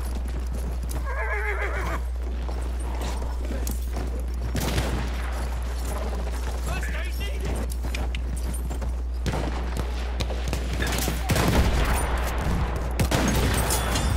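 In Battlefield 1, a cavalry horse gallops with clip-clopping hooves and loud neighs amid bursts of rifle and machine-gun fire, over a constant low rumble.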